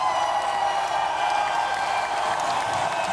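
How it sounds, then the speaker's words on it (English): Audience applause at a live talk show taping, a continuous, fairly loud roar of many hands blended into a smooth wash with faint cheering, steady throughout. "Let's give them a hand of applause."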